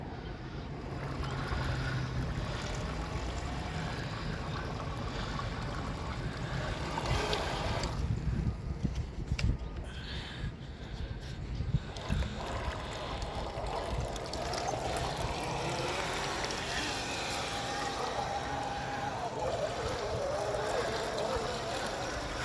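An RC Sherp Maxx amphibious vehicle churns steadily through water, with splashing and sloshing under a low engine drone, plus wind buffeting the microphone throughout.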